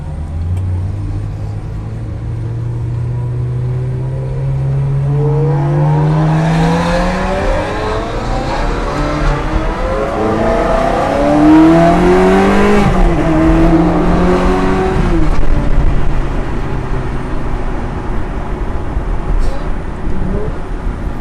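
A Ferrari engine revs up and accelerates hard on the Montlhéry speed ring circuit, its pitch climbing through gear changes, loud and close, then settling into a sustained roar.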